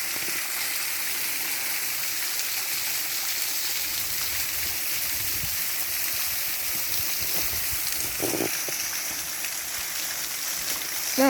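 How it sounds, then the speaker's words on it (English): A small waterfall rushes in a steady, broadband hiss that stays even throughout, with a few faint knocks and rustles near the end. "It's not a big waterfall, but it makes noise"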